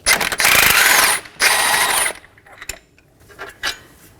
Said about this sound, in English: Locate our top strut mounting bolt and remove it. This is a 21mm on both sides.